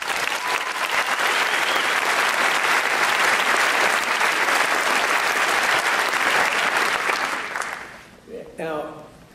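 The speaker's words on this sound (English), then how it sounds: "I think they deserve a round of applause" A university lecture audience gives a long round of applause, thick continuous clapping from many people that stays loud for several seconds, then fades out as a voice begins speaking at the end.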